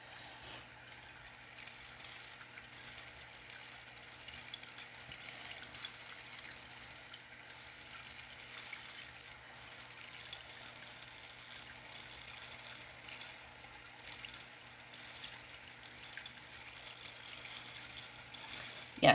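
A rain stick played slowly for sound healing, a continuous soft cascading hiss of pellets like trickling water, steady and fairly quiet with gentle swells throughout.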